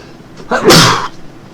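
A single loud, close sneeze with a sharp intake and an explosive burst, then quiet.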